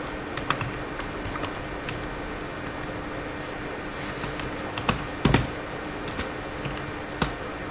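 Typing the words "Marketing Insider Group" as a website title on a computer keyboard, with sparse, soft key clicks and a few sharper taps over a steady background hiss.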